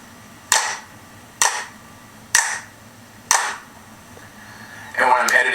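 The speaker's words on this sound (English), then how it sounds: "Claps." Four sharp hand claps ring out at a steady, evenly spaced rhythm for syncing multi-camera video, each loud and close, followed by a brief burst of talking at the end.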